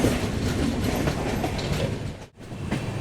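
The Vikramshila Express, 12368 from Anand Vihar to Bhagalpur, rolls on with steady clickety-clack of wheels and a broad rumble heard from inside a 3rd AC coach, with a brief dip near the end.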